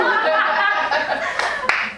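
A live audience gives a couple of scattered claps amid murmuring and light laughter during a comedic author reading, the claps sharp and near over steady crowd chatter.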